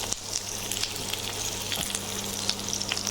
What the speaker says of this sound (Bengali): প্রথমে আমি দিয়ে দিচ্ছি কিউব করে কাটা পেঁয়াজগুলো।